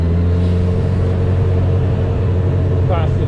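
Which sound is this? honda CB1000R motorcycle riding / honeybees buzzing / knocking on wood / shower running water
honda CB1000R motorcycle riding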